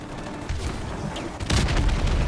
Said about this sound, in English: Target confirmed. Stand by for airstrike.